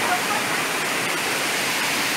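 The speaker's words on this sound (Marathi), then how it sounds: "आणि हे खळखळणारं पाणी दिसते समोरून." A babbling river in a forest flowing over stones, a steady close rushing and gurgling wash of water that fills the whole clip.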